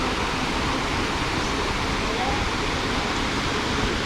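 A river runs below a forest campsite at Lata Perahu, Kuala Kangsar, in Malaysia, flowing over several levels. It makes a steady, broadband rushing roar that stays constant the whole time and is fairly loud and close.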